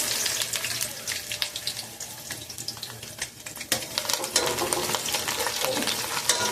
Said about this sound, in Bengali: তেল দিয়ে দিয়েছি পরিমাণ মতো এবং আমি এখানে কিউব করে কেটে রাখা পেঁয়াজ দিয়ে দিব।